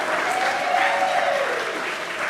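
An audience at a chorale concert applauds the instrumentalists, including a bell choir, with steady, full clapping that carries on without a break.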